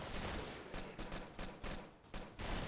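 Rapid gunfire rattles in Killing Floor, a dense run of loud, closely spaced shots broken into several short bursts, with no talk over it.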